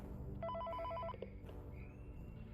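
A telephone bell rings in Five Nights at Freddy's 3, a short burst of repeated electronic trills up close over a low hum, then cutting off.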